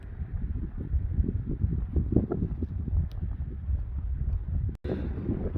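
Wind buffeting the microphone on the Pacific Crest Trail in a steady low rumble, continuous and fairly loud, with a brief dropout near the end.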